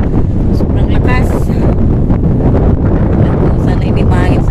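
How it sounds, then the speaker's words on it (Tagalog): Strong wind at sea off an island beach, loud continuous roaring gusts buffeting the microphone, with a voice faintly heard beneath. "Aray ko, pinapatpad ako ng hangin"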